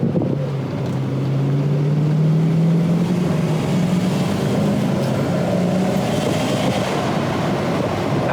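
Steady, loud engine drone from a 2007 Volvo XC90 with the Yamaha V8, running at light throttle while driving, with a rising and falling tone over constant road and wind rush.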